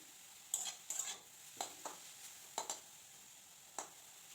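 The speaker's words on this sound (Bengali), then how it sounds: "একটু নাড়াচাড়া করে আমি আরেকটু ভাজা করে নেব।" Radish greens being stirred and fried in a pan, heard quietly as a handful of short spatula scrapes and clicks, spaced irregularly over a faint background.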